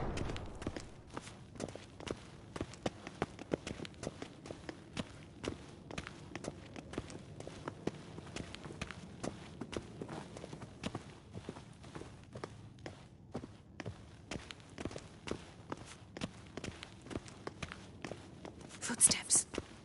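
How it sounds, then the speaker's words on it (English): Soft footsteps tap along steadily in The Witcher 3, faint and close, under quiet whispered voices, with a brief louder knock near the end. "Footsteps."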